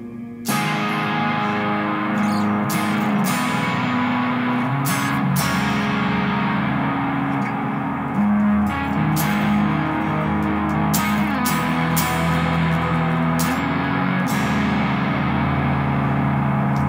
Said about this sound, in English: I'm also adding in some graphic equalizer for kind of like a telephone radio-y type sound.